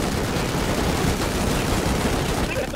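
Dense, continuous automatic gunfire from a Rust video game firefight, loud rapid bursts overlapping without pause throughout.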